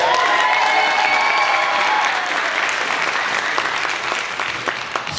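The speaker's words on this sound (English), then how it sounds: "One more round of applause for these guys" A high school jazz ensemble at a regional Ellington festival gets sustained, loud audience applause, a dense wash of clapping that holds steady and slowly tapers, with some cheering mixed in.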